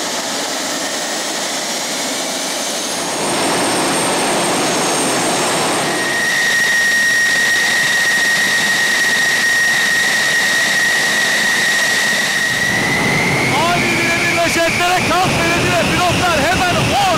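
Military jet engines at İncirlik air base roar loudly and steadily, with a sustained high whine that shifts in pitch as the aircraft power up, and voices briefly heard near the end.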